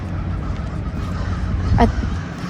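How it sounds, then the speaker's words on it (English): A single harsh crow caw rings out briefly over a low, rumbling outdoor background. "You can hear all the crows, right?"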